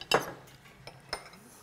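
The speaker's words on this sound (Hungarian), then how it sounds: "Most lecseréljük a tányérokat." Plates and dishes clink at a restaurant dinner table as they are swapped between courses of a Peking duck meal, two or three brief close ceramic knocks with quiet pauses between.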